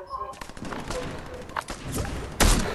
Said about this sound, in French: Ah, je vois des tirs, je vais par là-bas.